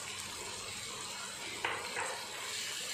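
Tomatoes with cumin and spice powder sautéing in a pan, a soft continuous sizzle with a couple of brief stirring scrapes near the end, close but quiet.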